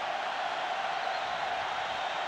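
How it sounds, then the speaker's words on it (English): A college football stadium crowd at a Washington versus Arizona game roars in a steady, dense wash of cheering and noise that stays loud and unbroken throughout. "This crowd starting to make some noise"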